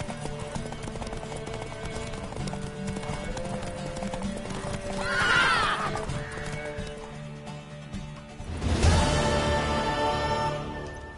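A horse in The Witcher 3 on PS4 gives a loud whinny midway, then a louder burst of neighing near the end, over a steady background of clopping hooves and game ambience.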